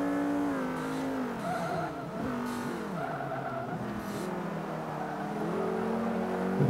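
A race car engine in Forza 5 revs and drops as it takes a corner, with rising and falling pitch sweeps and faint tire noise, steady and fairly loud, with no talk.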